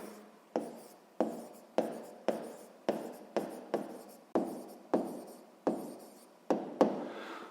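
Examples for a sixth-grade maths exercise are written out by hand in a steady series of about a dozen short, scratchy strokes. Each stroke starts with a sharp tap, sits close to the listener and is heard alone.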